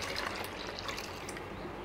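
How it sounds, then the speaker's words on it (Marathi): Water pours steadily into a cooking pot, a continuous close splashing rush with no break. "मी थोडंसं अजून पाणी ओतत आहे"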